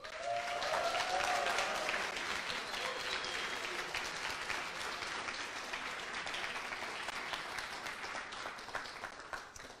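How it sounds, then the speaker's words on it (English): A coding bootcamp demo day crowd in Montreal breaks into sustained applause, a dense, fairly quiet wash of clapping that swells early and gradually settles, with a few voices faintly mixed in. "Let's start with a huge round of applause to congratulate and encourage them"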